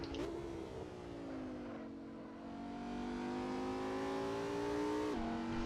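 An Audi race car in a racing video game accelerates hard, its engine note climbing steadily in pitch as it gathers speed. A brief lift or gear change comes near the end before it pulls again, loud and close throughout.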